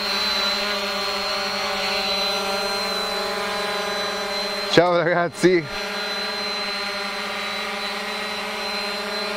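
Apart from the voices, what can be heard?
quadcopter drone flying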